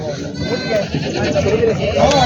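Goats bleat repeatedly at a busy village goat market in Vasmat, Hingoli district, their wavering cries close and loud over a constant crowd of voices.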